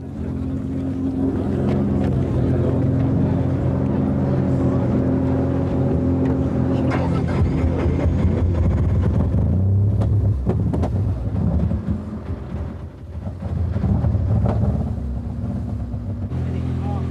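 A 1990 Toyota rally car engine running rough drones loudly and unevenly with low rumbling, surging and dipping, mixed with wind and background noise, at the Circuit of Ireland Rally.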